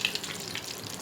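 A potato and gram flour cutlet, just flipped in a frying pan, fries in hot oil with a soft, even sizzle and a couple of small pops, quiet and close.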